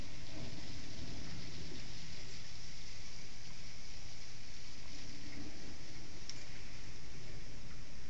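Heavy thunderstorm rain falls outside a north-facing window during a November severe weather outbreak, a steady, dense hiss of rain that runs without a break, with no voices.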